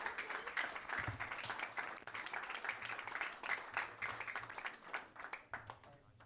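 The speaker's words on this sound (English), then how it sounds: "Let's give them one round of applause." An audience at a school district board meeting applauds students with steady, moderately faint clapping that lasts several seconds and then thins out.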